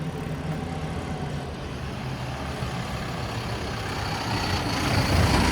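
A heavy truck rumbles past on a mountain road under construction, its engine growling close and steadily rising in loudness toward the end.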